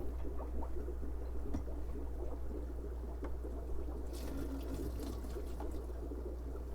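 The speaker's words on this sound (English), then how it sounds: "pour in that catch basin, and that just sends right to the drain" Water is poured from a measuring cup into a catch basin in a fish room and trickles and splashes steadily into the drain, over a constant low hum of equipment, with a brighter splashing burst toward the end.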